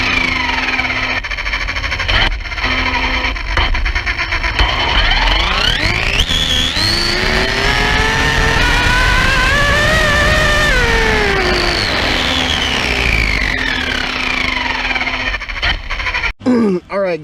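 Arrma Typhon RC car on 8S batteries doing a speed run, its electric motor whine rising to a high scream around 105 mph, then falling away as the car passes and slows.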